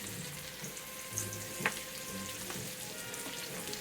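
Salmon fillets fry in butter in a pan, a faint steady sizzle and crackle heard close with a couple of small clicks, no talking.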